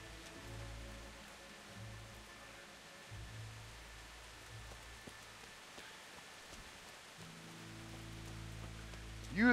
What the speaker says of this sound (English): A nice jog in the rain here.